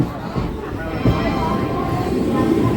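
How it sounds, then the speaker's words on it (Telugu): DEMU train at Dhone junction platform, a steady rumble of the carriages with a couple of clunks from the wheels, heard close from on board amid faint background voices. "డోన్ జంక్షన్ 4వ నెంబర్ ప్లాట్ఫామ్ మీద ఆగిందండి మన ట్రైన్"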